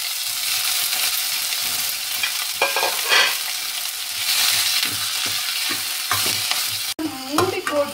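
Spinach leaves tossed into a hot pan with green chillies and curry leaves, giving a steady close sizzle with scraping stirs, a sharper burst of frying near the end.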